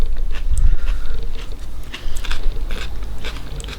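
A variegated chilli pepper bitten and chewed close to the mic: a loud crisp crunch, then wet, crackly chewing that continues for a few seconds, with no talking.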